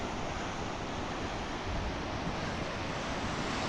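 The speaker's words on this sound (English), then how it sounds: "Out on the beach in Durres," Surf rolls steadily onto the beach at Durres, Albania, on a chilly winter day, a continuous broad wash of breaking waves mixed with wind buffeting the microphone, with no talk.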